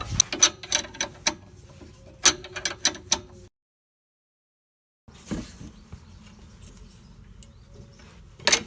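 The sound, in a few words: tightening Camry sway bar end link nuts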